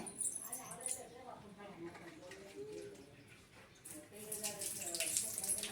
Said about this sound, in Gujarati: નળ ચાલુ નળ ચાલુ છે